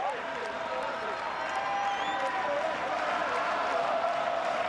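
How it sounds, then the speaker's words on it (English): A large stadium crowd at a Chile versus Paraguay South American Under-20 football match murmurs and cheers in a steady, distant wash of voices, with scattered shouts rising over the din. "You can hear the crowd starting to get into it."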